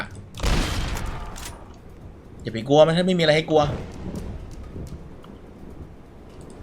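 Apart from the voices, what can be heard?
lightning strike and thunder in Roblox Dead Rails video game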